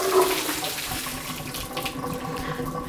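Water pours steadily from a pot through a colander in a kitchen sink, a continuous splashing rush that stays close and fairly loud throughout, with no talking.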